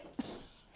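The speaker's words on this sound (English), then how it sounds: "He was starting to have a coughing fit." A single short cough bursts out once near the start, quiet and close, followed by faint background hiss.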